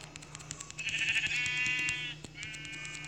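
Sheep bleating in a survival video game, a sustained wavering bleat standing out over steady game background sound, followed by a shorter second bleat.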